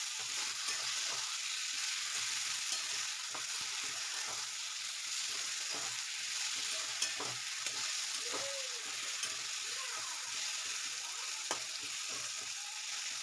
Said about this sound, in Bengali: সিম ভাজাগুলো দিয়ে এটা আর একবার ভালো করে নাড়াচাড়া করে নিতে হবে।